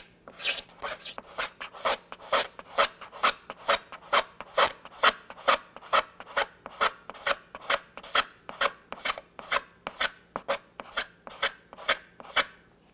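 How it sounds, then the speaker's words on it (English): A razor blade scrapes a hardened GluBoost glue finish on a guitar body, producing a steady series of close, dry rasping strokes, roughly two per second, repeated for about thirteen seconds with no voices. "the goal of the scraping with a razor blade is not to flatten it completely"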